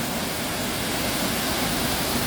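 A waterfall at Bird Paradise in Mandai Wildlife West makes a steady, close, full rushing roar of falling water, unbroken throughout, with no voices.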